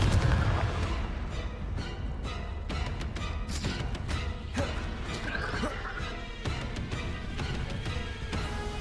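A Confringo fire spell blast in Hogwarts Legacy erupts amid combat, with repeated heavy booming impacts and crashing hits over a dense, loud battle soundscape.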